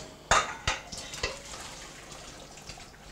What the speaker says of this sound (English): we're going to drain the mushrooms